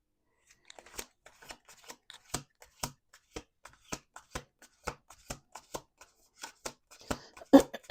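Crisp, rapid riffling of tarot cards in a series of short bursts, each shuffle a quick flurry of slaps, close and fairly quiet.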